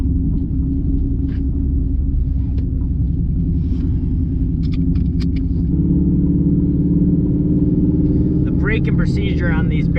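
An 850-wheel-horsepower Ford Mustang driving, its engine a loud, deep, steady rumble filling the cabin, with a shift in pitch partway through and a voice speaking briefly near the end.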